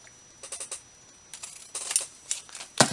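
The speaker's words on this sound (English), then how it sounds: "I'll cut this just a little bit." Scissors snipping paper for a crafting journal, a few short crisp cuts in quick clusters, close and fairly quiet with no talk.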